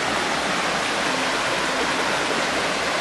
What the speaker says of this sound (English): I get my first glimpse of Kimsey Creek.